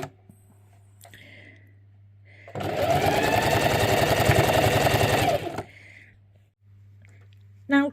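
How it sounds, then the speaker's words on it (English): A sewing machine stitches a quilt seam in one continuous burst of about three seconds, close and loud with a rapid mechanical whir, framed by a quiet background hum and soft handling sounds. "I'll start with a back stitch and go all the way round"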